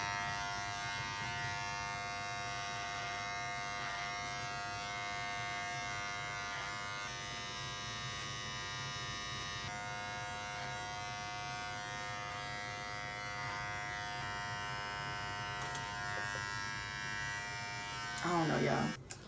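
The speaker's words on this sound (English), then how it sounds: "I'm supposed to be doing the trimmer to give it a nice shape" Electric hair trimmer shaping hair during a taper fade, a steady close buzzing hum running almost continuously with a brief shift in tone near the end.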